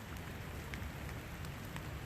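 Steady rain falling on a cold day, a dense even hiss of drops with a few slightly louder patters, continuous and close with no voices.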